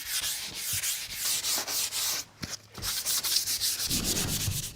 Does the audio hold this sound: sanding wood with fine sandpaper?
yes